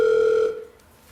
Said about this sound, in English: let's take a phone call